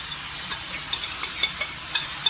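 Mango pieces stirred into pickle masala frying in a pan, with a steady hiss of sizzling oil and a regular run of scraping stir strokes, close and fairly quiet.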